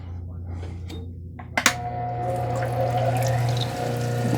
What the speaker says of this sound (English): Let me get some water going.